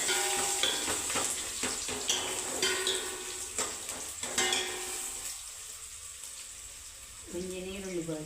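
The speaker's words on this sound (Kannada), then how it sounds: "ತಾರೆದೆಣ್ಣೆ ಪಾಡ್ದೆ ನಾನು ಒಗ್ಗರಣೆಗೆ ಬೊಕ್ಕ ಬೆಳ್ಳುಳ್ಳಿ ಪಡಿ" Garlic and onion frying in oil for a tempering in a Kori Gassi dinner make a steady sizzle broken by stirring scrapes and clinks of a pan, with a person talking over it.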